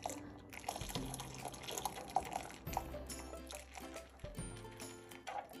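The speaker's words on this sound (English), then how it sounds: "Now I'm adding this into the milk slowly." Slow pouring of a smooth mixture into milk in a pot for Turkish baked rice pudding, with soft liquid trickles and drips, a faint low hum beneath, close and quiet.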